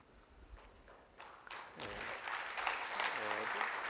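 An audience at a national church elders' conference begins clapping for a pastor's talk, starting with a few scattered claps that swell into fuller applause, with a voice briefly audible underneath.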